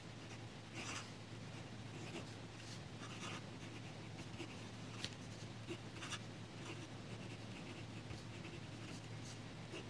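A fountain pen with a fine, flexible F nib scratches across paper in short, repeated strokes, faint and close, with a steady low hum underneath and no voices.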